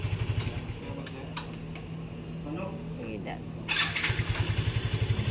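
A motorcycle engine idles after an oil change, a steady close low rumble with a faster throbbing pulse at start and end, while a person talks over it briefly.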